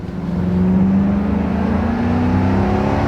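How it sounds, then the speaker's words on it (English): A V8 engine in an old police car with over 200,000 miles runs steadily and close during a ride, a smooth continuous drone with a rising whir and no talking over it. "That V8's still going."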